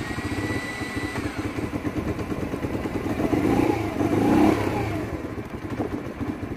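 A cold Yamasaki YM50-RE motorcycle engine, 2018 model, cranked on electric start with a bit of choke, churns and clatters steadily close by, rising briefly in the middle before settling back.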